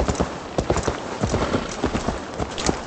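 Horse hooves clip-clop steadily at a brisk pace in the video game Assassin's Creed Valhalla, close and loud over a dense bed of game ambience, with no speech.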